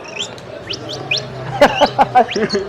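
Quick, high bird chirps, a few rising tweets followed by a louder burst of sharp rhythmic chirping, close by.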